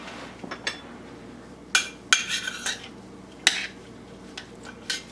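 Bone broth soup stirred with a spoon, several separate metallic clinks and scrapes against a bowl or pot at irregular intervals, close and moderately loud over a quiet background.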